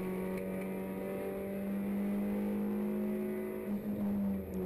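Rally car engine held in fourth gear during a Qatar national rally round, a steady droning note heard from inside the car, slightly rising and falling near the end.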